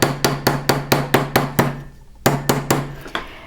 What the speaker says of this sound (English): Try to keep your hammer strokes in the same location and move your metals